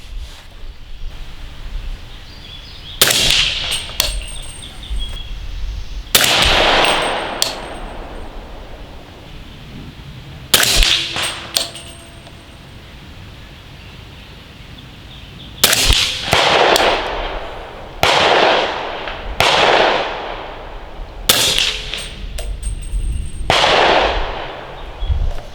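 Outdoor rifle shots fired at a target with Discreet Ballistics subsonic ammunition: about a dozen sharp, fairly loud cracks in spaced groups, each with a short trailing echo, over light wind noise and no talking.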